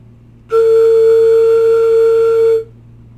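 A steady, pure whistling tone from air blown across a flute head joint, starting abruptly and holding evenly for about two seconds before stopping.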